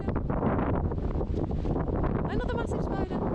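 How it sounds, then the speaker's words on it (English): Strong wind buffets the microphone beside a small roadside green, producing loud, continuous low rumbling and fluttering gusts; a brief higher bleating-like sound rises near the end. "this wind is putting me right off"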